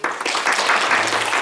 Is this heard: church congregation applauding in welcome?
yes